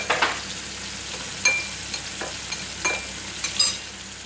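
Eggs for scrambled eggs with cream fry in a pan, a soft, steady sizzle broken by a few light clicks and scrapes from stirring, fairly faint and with no talk.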